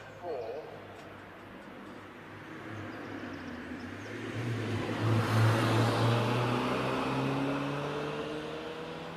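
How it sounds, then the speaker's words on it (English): A 2-litre BMW Z4 races up a hill climb course, its engine note rising steadily as it accelerates past. A commentator talks over it throughout. "we've got Mike Tower in the 2 litre BMW Z4"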